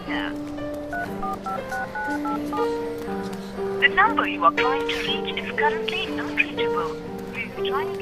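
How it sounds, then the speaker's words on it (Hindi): Touch-tone keypad beeps from a phone being dialed, a quick run of stepped tones one after another, with voices talking over and between them in a film scene. "एक बार कॉल करके देखो ना।"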